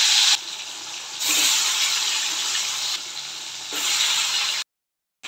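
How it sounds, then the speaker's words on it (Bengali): Pieces of paneer are dropped into hot oil in a kadai and fry with a loud, watery sizzle. The sizzle swells and dips in bursts over several seconds, then stops suddenly. "তেল গরম হয়ে গেছে, পনিরগুলো দিয়ে দিচ্ছি।"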